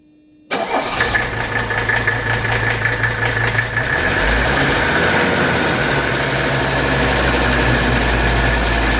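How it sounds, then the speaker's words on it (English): A 1983 Mercedes 300TD diesel fires up after a general service and fuel-system bleed. One abrupt start gives way to a steady, close, even idle that continues to the end without speech. "it is now time to fire up the engine and make sure there's no air in the system"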